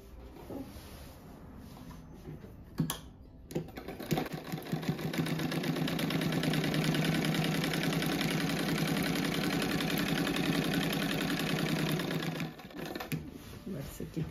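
A sewing machine stitches a patchwork quilt, running in one long, steady, close whirring burst of about eight seconds, with a few handling clicks before it starts and after it stops.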